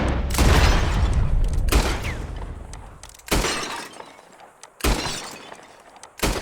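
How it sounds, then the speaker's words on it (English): Gunshots shatter glass bottles in Red Dead Redemption II, a few loud sharp cracks with bursting glass spaced out over several seconds, close and alone. "Whoever shoots more of these bottles wins."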